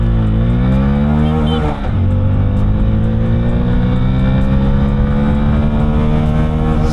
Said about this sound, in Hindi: सबसे पहले तो बाइक को लॉन्च करते हैं